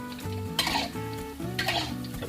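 Krupuk crackers frying in hot oil hiss and crackle steadily as a utensil stirs them, with two bursts of scraping and clatter against the pan over the sizzle.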